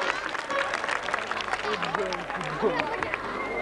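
Crowd at a village mela in Mahilpur applauding, with scattered clapping and general hubbub under a speaking voice on the public address.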